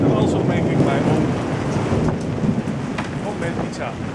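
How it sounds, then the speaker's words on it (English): Hail and heavy rain pour down during an outdoor thunderstorm beside a barbecue, making a dense, steady, loud roar of impacts that fills the whole moment without a break. "Enjoying some beers and the hailstorm and the thunder."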